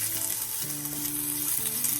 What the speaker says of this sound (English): And you want to saute the shallots